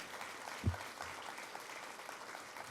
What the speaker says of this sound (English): How about a round of applause, everybody, for the Bellflower High School Vocal Ensemble?